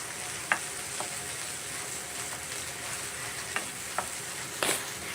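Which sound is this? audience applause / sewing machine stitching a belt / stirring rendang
stirring rendang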